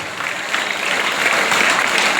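Applause from a seated crowd at a school sports day in Sembattu, Trichy, a dense steady patter of many hands clapping, fairly close, swelling slightly toward the end, with no talk.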